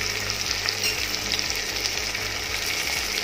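Curry leaves, coriander and asafoetida sizzling hard in hot oil with turmeric for a traditional ambadi leaf bhaji, a loud, dense, continuous hiss up close with faint rhythmic scraping underneath and no voices.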